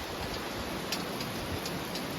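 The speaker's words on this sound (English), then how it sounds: "She don't like the rain" Rain falls steadily onto a porch in misty weather, an even hiss of drops with faint ticks of water landing nearby.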